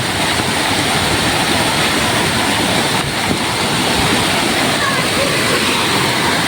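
Heavy monsoon runoff from a dam pours straight down into a village well in pouring rain, a loud, steady, close rushing roar that fills the whole stretch without a break.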